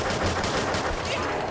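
Bursts of gunfire from a weak gun in a zombies video game, loud and dense across the short clip with overlapping shots and other game noise.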